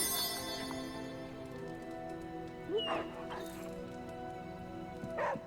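A dog in a card-based XCOM-style video game gives a few short yips and whimpers over a steady synthetic game hum, the calls brief and fairly soft.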